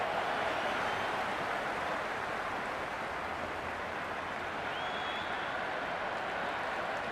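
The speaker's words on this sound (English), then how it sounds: "It's evident and ever so audible that the crowd is at near bursting point at today's play" In the Cricket 26 video game, a stadium crowd keeps up a steady, dense roar of cheering at a match. It stays loud and even throughout with no commentary over it.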